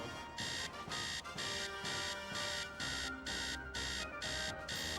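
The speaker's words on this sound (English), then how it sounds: "that's just an alarm clock sound" Electronic alarm clock ringing in a steady pattern of rapid beeping bursts with brief gaps, loud and continuous for several seconds, with no voices.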